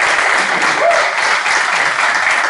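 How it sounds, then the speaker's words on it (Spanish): Audience applause welcoming the maestro, a dense, steady wash of clapping from a crowd that stays loud and even throughout with no pauses. "Denle un fuerte aplauso"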